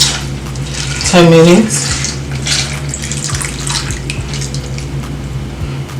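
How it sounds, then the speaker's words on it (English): Water runs steadily into a bowl of beans to cover them for soaking before making akara, a continuous close splashing wash with a brief spoken phrase over it. "I'll be adding water to it just to cover it"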